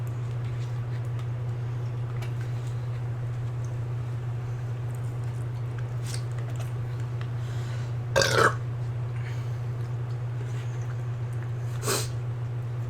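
Two loud, raspy burps during a turkey Manhattan mukbang meal, one longer and stronger belch followed a few seconds later by a shorter one, over a steady low electrical hum with faint small noises between.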